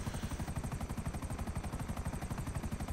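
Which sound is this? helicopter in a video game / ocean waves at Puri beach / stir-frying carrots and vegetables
helicopter in a video game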